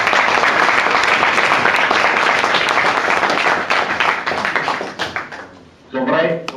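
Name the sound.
audience applause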